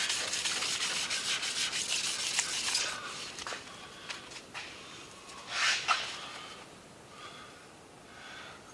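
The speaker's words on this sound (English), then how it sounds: "That means that we're sanding the clear coat." Slow back-and-forth rubbing of a sanding pad wet sanding the car-paint clear coat on an electric guitar body, rasping strokes that come in bursts, close up and without speech.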